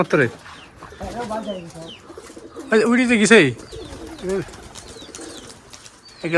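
Giribaj flying pigeons coo and flutter close by, with soft repeated calls mixed with people talking in the background.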